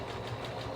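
Sewing machine stitching slippers, a rapid, even mechanical whir with steady pulsing beats, close and moderately quiet with no talk.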